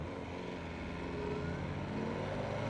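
A BMW S1000R motorcycle engine runs steadily close by, its revs held and rising slightly through a short throttle response, with no talk over it.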